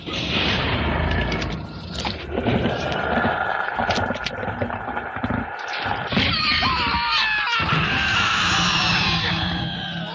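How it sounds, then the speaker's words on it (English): Frightened screaming from several theme park guests over a dense, chaotic backdrop of crashes and booms on the Alien Encounter attraction at Magic Kingdom, loud and continuous throughout. "Meanwhile, other guests are screaming with fear."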